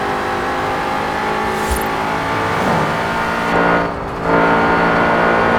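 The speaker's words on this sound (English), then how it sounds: "Now when it comes to the exhaust note, this is not very nice compared to the V10 M5." BMW M5 engine revving in the racing game Forza Horizon 4, a loud, continuous exhaust and induction drone that swells and dips without a break and carries no talk.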